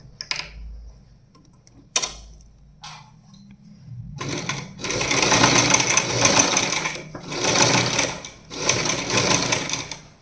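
A sewing machine stitches a practice circle in short, uneven bursts of mechanical whirring and clatter. Brief isolated clicks and pauses come first, then longer runs of stitching that stop and start.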